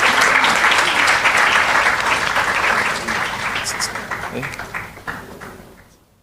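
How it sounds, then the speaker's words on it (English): Audience applause at a national awards of excellence ceremony, a loud sustained wash of clapping that gradually thins and fades out near the end, with faint voices mixed in. "Give another round of applause as she steps into the light."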